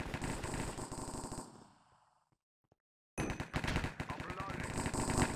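Rapid gunfire in Minecraft's Hypixel Cops n' Criminals mode rattles loudly in bursts, cuts to near silence for about a second, then resumes as dense automatic fire.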